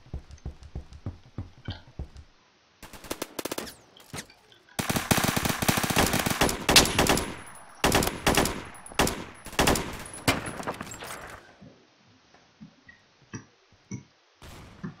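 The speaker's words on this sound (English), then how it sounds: "I hear shots there." Gunfire in a Roblox shooting game, with bursts of rapid automatic shots and scattered single cracks, loud and close, broken by brief pauses and a few quieter clicks between volleys.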